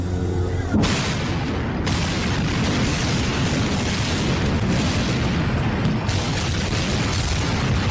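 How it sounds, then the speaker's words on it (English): A blast at the World Trade Center attack site, heard as a loud, dense roar that starts abruptly and rumbles on for several seconds, with further bursts of noise rising out of it; no voices are heard. "we just heard one more explosion"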